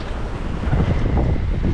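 Wind roaring steadily over a sailboat at sea in 16 to 18 knots, loud buffeting rumble across the microphone mixed with wash of water, no voices.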